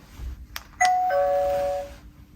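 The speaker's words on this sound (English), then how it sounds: "there's a chime here when you press the doorbell" The doorbell of an Arpha AL501 smart fingerprint door lock sounds after a couple of button clicks, a clear electronic two-note ding-dong chime that rings close and fades out.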